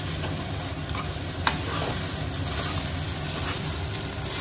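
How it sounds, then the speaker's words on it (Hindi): Poha with peanuts and tempering being stirred in a pan, a steady close scraping and soft sizzling throughout with a small clink partway through. "पोहे को आपने अच्छी तरह मिक्स कर लेना है ताकि उसमें मूंगफली और जो हमारा तड़का है अच्छी तरह मिक्स हो जाए।"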